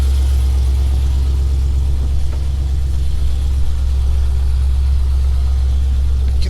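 A car engine runs steadily at a low idle while the car backs up, a continuous close rumble with no talk.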